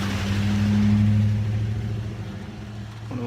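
A private bus driving past on a street, its engine a loud low rumble that stays steady, then slowly fades as the vehicle moves away.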